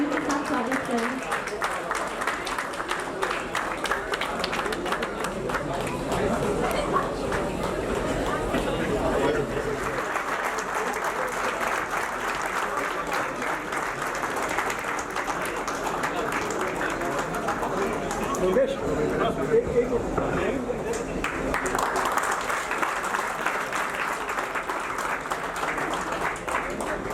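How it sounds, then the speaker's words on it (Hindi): A crowd at a retirement party applauds to welcome a guest, giving a long, dense, steady clapping that runs throughout under overlapping chatter and voices. "जोरदार तालियों के साथ स्वागत करें।"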